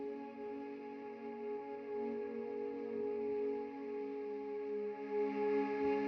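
Grainy tape orchestra woodwind loop from Labs holding sustained, slightly wavering tones, soft and alone with a dirty, lo-fi texture.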